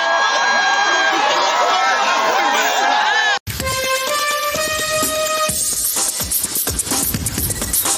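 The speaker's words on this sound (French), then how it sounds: "acclamé par la foule." A village crowd cheers and shouts for a young man who has pulled a body from the river, a loud burst of massed voices that cuts off suddenly and is followed by other noisy sounds.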